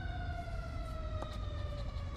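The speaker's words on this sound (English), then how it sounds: "It's about to get louder, guys. Sorry about the sirens." Emergency vehicle sirens wail outside, their steady rising and falling tones carrying over a constant low rumble of traffic, loud and continuous.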